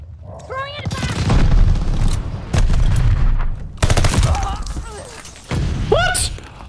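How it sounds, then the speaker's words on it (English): Grenade blast and bursts of gunfire in Call of Duty Vanguard, loud booming hits and rapid shots spread through the scene, with a voice shouting over the combat. "Grenade! Throwing it back!"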